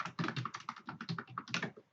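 Rapid typing on a computer keyboard, heard close up as a steady stream of irregular clicking keystrokes with no talking.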